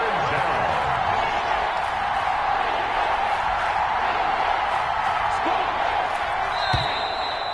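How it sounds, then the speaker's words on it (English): Stadium crowd noise in an American football video game ahead of a big third down: a steady, dense roar that holds level throughout, with a commentator talking over it. "The crowd getting into it as we come up on a big 3rd down."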